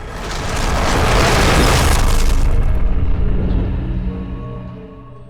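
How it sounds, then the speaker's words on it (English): A heavy boom-like impact from the video game The Missing as JJ hits the ground after a long fall, a loud broad crash that swells over the first seconds and then trails off into a low rumbling decay. "JJ plummets through the air. This plummet ends with the thud."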